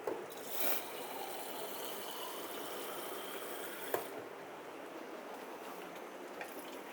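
Water poured from a glass into a cooking pot of turnips for a chicken shaljam stew, a continuous close hiss and gurgle with a brief clink partway through and no talk.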